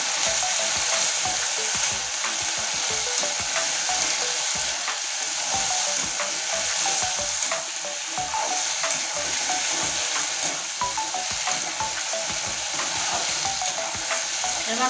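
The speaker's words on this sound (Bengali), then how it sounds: "এবার কচুটা সুন্দর করে ভেজে নেব।" Pieces of gathi kochu (taro) fry and crackle in hot oil while being stirred, a dense close sizzle with frequent scraping and popping throughout.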